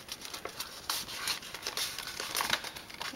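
Stiff paper crinkling and creasing as the bottom of a small envelope-style treat bag is folded in by hand, a run of close, soft rustles and crackles with brief sharper crinkles and no talking.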